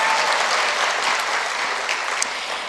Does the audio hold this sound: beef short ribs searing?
no